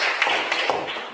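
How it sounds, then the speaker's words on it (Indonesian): Children in a classroom clap together, a brief burst of dense, overlapping hand claps at steady loudness with a few sharper accents. "Tepuk tangan dulu untuk teman-temannya"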